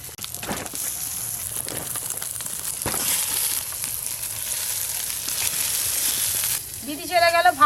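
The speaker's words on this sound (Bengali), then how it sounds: "আর যে বেগুনগুলো আছে একবারে ভেজে দেব।" Eggplant slices fry in hot oil with a steady, close hiss and crackle that runs throughout, joined near the end by a brief voice.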